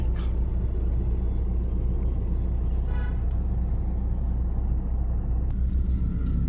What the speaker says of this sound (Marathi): ट्रॅफिक काय कमी होत नाही आणि गाडी काय आपली पुढे जात नाही